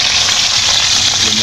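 Loud, close sizzling and spattering of squid balls frying in hot oil, a continuous crackling hiss throughout.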